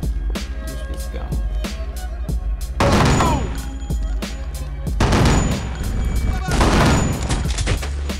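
Repeated gunfire in the PC shooter Kingpin: Life of Crime, with a sparse run of sharp single shots followed by several dense, loud bursts of rapid fire, close and dominant in the mix.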